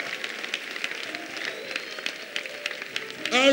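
A church congregation applauds at a service, a steady spread of clapping and crowd noise running throughout, with voices rising near the end.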